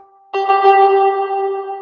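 A sustained synthesizer chord starts abruptly and rings on steadily, washed in heavy reverb that blurs it into a long, spacious tail.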